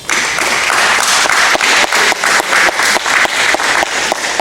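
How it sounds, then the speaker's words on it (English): An audience claps for themselves in a sustained, dense round of applause at a keynote gathering, close and loud, with no voices over it. "I want you to give yourself a round of applause."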